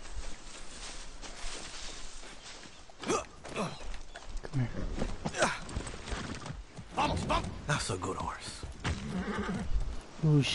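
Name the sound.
horse neighing and hooves in video game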